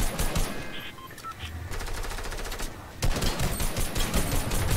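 Gunfire in Fortnite: rapid bursts of automatic shots, loud and dense, pausing briefly before another sustained volley near the end, over game background sounds.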